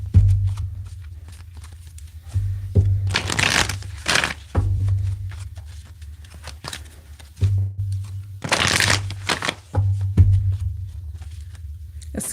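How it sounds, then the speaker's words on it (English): A deck of tarot cards being shuffled by hand, bursts of riffling and snapping that come in two main flurries with softer handling between them, close and fairly loud over a low steady hum. "Let's get one more good shuffle here."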